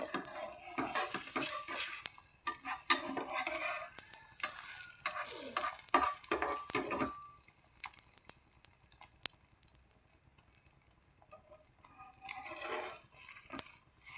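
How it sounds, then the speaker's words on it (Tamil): A carrot and egg omelette fries in a pan with a soft, steady sizzle, mixed with stirring, spatula scrapes and light clinks of utensils, close by and with no talking. "சுட சுட கொஞ்சம் சூடாக முட்டை ஆம்லேட் போடலான்ட்டு கேரட் முட்டை"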